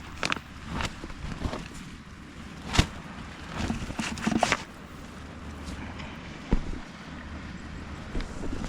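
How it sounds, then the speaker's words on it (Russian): Steady wind blows across sharp rocks on an island at night, a continuous low rumble with gusty buffeting and a few scattered close knocks and rustles. "Постоянно этот ветер."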